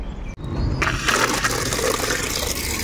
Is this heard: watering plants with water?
yes